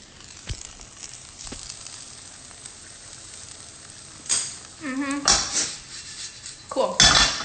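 Frying food flipped in a pan makes a few sharp metal clinks and scrapes over a low sizzle, close and busy toward the end, with a brief murmur of voice.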